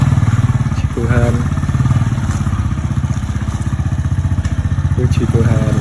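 A motorcycle engine runs with a steady, rapid low putter and a few brief revs, close by, while people talk over it.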